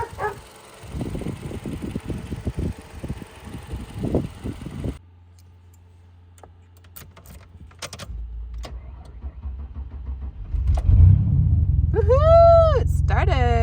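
A front-wheel-drive race car sitting on jack stands cranks and fires up, its deep engine rumble settling into a steady, loud idle after a stretch of speech. An excited voice then rises in pitch over the running engine.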